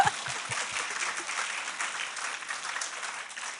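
Church congregation applauding during a Korean Wednesday worship service, a steady, moderately distant wash of many hands clapping that holds evenly throughout.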